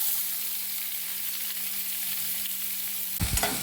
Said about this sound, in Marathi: आता कांदा मी थोडासा लाल होईपर्यंत परतून घेते.